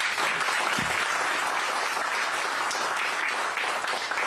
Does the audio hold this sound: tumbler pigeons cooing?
no